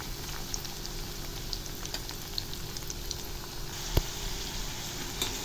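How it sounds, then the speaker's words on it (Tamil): Cauliflower pieces fry in sunflower oil in an iron kadai, making a faint, continuous bubbling sizzle with one small clack near the end and no voices. "இப்போ கொஞ்சம் கொஞ்சமாக இந்த காலிஃப்ளவரை நம்ம இந்த எண்ணெயில் பொறிச்சு எடுக்கணும்"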